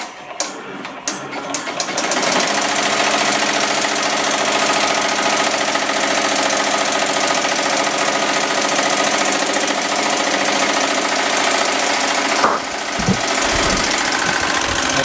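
An embroidery machine stitches a design into leather with a loud, continuous rapid mechanical chatter. It runs steadily and close, with a few clunks near the end.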